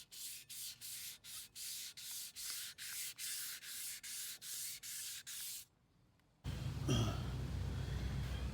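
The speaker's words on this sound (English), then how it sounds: "Hit it real lightly with the 400. Now can start the wet sanding." Rhythmic back-and-forth strokes of 400-grit sandpaper wet sanding a wheel during polishing, about a dozen steady rasping passes close up, then a brief pause and a louder continuous wash of noise.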